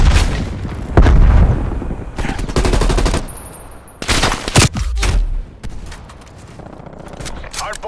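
Frag grenade blasts and rapid gunfire ring out in Black Ops Cold War hardpoint multiplayer, with loud booms and bursts of automatic fire layered under game announcer voice lines.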